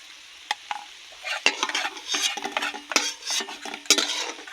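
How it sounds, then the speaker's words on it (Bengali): Fried potatoes are stirred in a pan, making sharp metallic spoon clanks and scraping strokes in bursts over a light sizzle, close by with no voice. "ভালো করে নেড়ে ফেলে দেবো যাতে সব আলুতে লেগে যায়"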